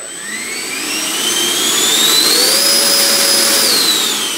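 A model F-16 jet engine with a dual afterburner is throttled up, giving a loud, steady roar with a rising whine that climbs in pitch and then holds for several seconds.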